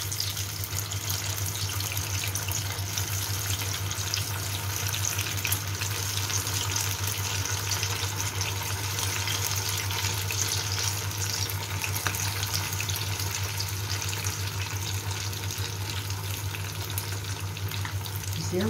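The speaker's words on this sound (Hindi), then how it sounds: "अब एक एक करके हम इसमें डालते जाते हैं और गैस का फ्लेम कम रखेंगे ताकि अंदर तक पके।" Potato and sabudana pakoras fry in hot oil over a low gas flame, a steady close hiss and crackle holding even throughout with no talking.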